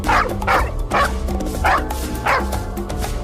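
Cartoon dog barking loudly and repeatedly at a kitten, with about five evenly spaced yapping barks over a busy background music track.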